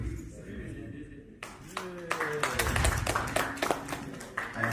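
A small crowd claps at a medical centre launch event, scattered hand claps building into irregular group clapping under people talking, with sharp individual claps standing out near the end.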